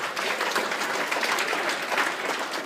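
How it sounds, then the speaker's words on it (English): Rock and roll fans in a crowd clap together in a loud, continuous burst of applause that stays even from start to finish, with no talking over it. "Rock and roll fans, by round of applause?"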